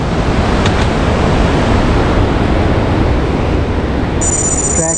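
Fast-flowing mountain stream rushing over rocks and boulders on a trekking trail, a loud, continuous, close roar of water with no pauses.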